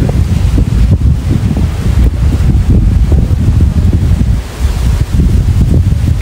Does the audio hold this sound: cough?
no